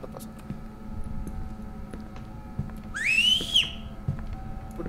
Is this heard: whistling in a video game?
yes